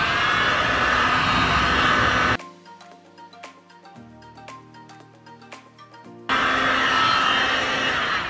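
A heat gun blows loudly while warming the tape under a factory door strip on a Toyota JZX110 Mark II, in two long bursts of rushing air separated by a quieter gap.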